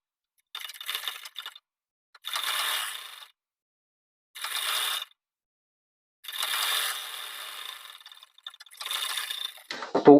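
Domestic sewing machine stitching a blouse half collar, running in five or six separate short bursts with silent pauses between them, fairly close and alone.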